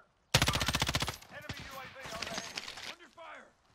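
Rapid automatic gunfire in the game Call of Duty Warzone, a fast loud burst of evenly spaced shots followed by scattered softer shots and game effects, with voices talking over it.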